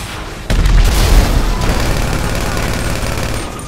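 Loud gunfire in Grand Theft Auto 5 starts with a sudden boom, then continues as rapid, dense bursts that slowly fade.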